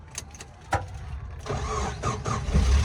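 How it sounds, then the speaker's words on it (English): A few clicks and a cranking sound, then a Nissan car engine catches and settles into a close, rumbling idle. "Well, the engine has been started."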